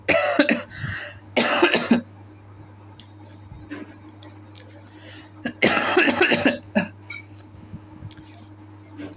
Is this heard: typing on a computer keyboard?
no